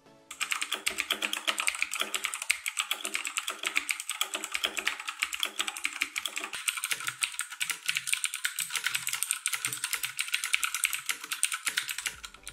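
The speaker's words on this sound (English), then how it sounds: "Here's a quick typing test so you can hear how the green compare to the Cherry MX Blue switches" Rapid, steady typing on a Razer BlackWidow Chroma V2 mechanical keyboard with green switches, crisp clicky keystrokes, close and continuous, no voices.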